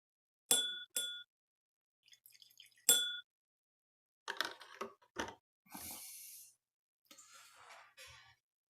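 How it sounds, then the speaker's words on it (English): Small taps and clinks on a glass of whisky come through in a quiet room, with bright ringing glass at first. Softer scattered handling and brief rustles follow, all close and separated by silence. "I'm going to try a ml of water in this."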